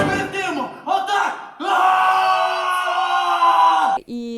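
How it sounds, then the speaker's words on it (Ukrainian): Operetta performers of the Kyiv National Academic Operetta shout and roar together: a couple of short, loud yells, then one long sustained group roar close and loud, ending in a brief final call. "Ми кричатимемо, ми ревнимо. Отак!"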